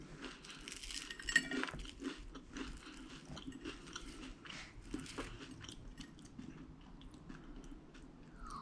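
Someone chewing a crunchy Weet-Bix sandwich spread with peanut butter and jelly, a steady run of close, crisp crunches and mouth sounds lasting several seconds, fairly quiet with no talking.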